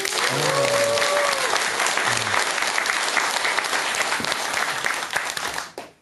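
A lecture audience breaks into dense, sustained applause that fills the room evenly, then fades away at the end, with a brief voice audible near the start.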